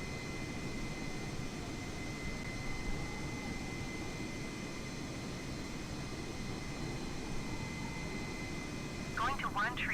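Inside an Air Canada Airbus A320neo in flight, a steady broadband jet roar fills the cabin at a constant level throughout, with a faint tonal whine above it.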